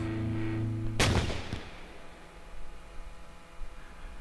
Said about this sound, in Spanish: al final se escuchó como un disparo